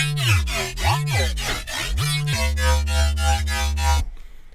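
Thick hyper bass wobbles resynthesized from square waves in Serum pulse in rapid rhythmic sweeps, the pitch swooping up and down before settling into a sustained buzzing drone that cuts off abruptly.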